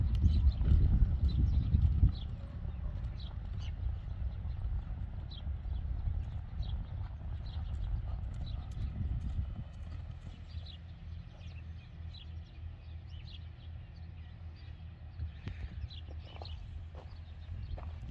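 Hooves of a Criollo horse clopping at a walk on soft, heavy ground in Coronel Suárez, Buenos Aires province, a steady plodding rhythm with wind rumble and faint birds in the background.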